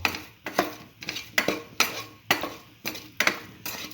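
A spatula knocks and scrapes against a pan as eggplant and bread stir fry is mixed, about nine clinking metallic strokes in a steady rhythm, close and moderately loud.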